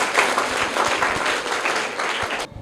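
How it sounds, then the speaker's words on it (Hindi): Loud applause breaks out for a correct answer at a children's quiz competition, a dense, steady wash of many hands clapping that cuts off abruptly near the end. "करेक्ट आंसर है, जोरदार तालियां"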